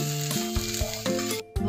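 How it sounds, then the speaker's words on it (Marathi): Chopped onion with ginger and garlic sizzles in a pan while making chicken curry, a steady close-up fry interrupted by a brief drop in sound, with sustained tonal sounds running underneath. "कांदा लाल झालाय, त्यात आला आणि लसूण घेतलेलं घालायचं आहे"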